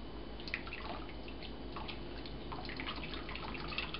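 Whey from goat cheese trickles and drips steadily through cheesecloth into a pot, a close, soft continuous patter of liquid with small irregular drops and no talking.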